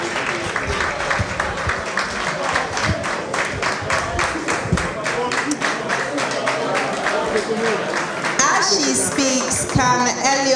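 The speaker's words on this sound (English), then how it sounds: "So please let's clap for Dorcas as she comes." Audience applauding a presenter coming forward at a faculty masterclass, dense sustained clapping from many hands filling the room, steady and fairly loud, with a voice rising near the end.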